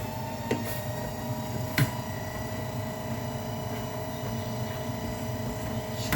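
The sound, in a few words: kitchen extractor fan running loudly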